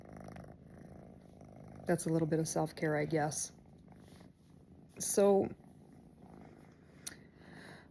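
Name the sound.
pet cat purring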